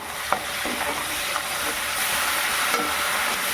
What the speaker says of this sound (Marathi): ढवलून घ्यायचं हे बघा कांद्याची पेस्ट